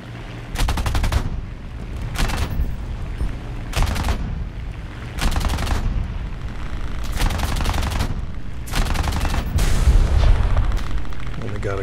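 Strafing gunfire from a fighter plane in War Thunder: several loud, sharp bursts of rapid machine-gun fire separated by short pauses, over a steady aircraft engine drone.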